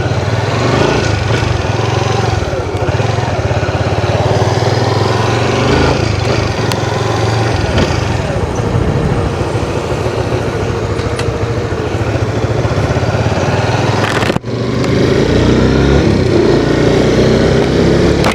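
A loud Honda RS150 motorcycle engine runs close by for the whole stretch, its steady rumbling drone briefly cutting out near the end before resuming.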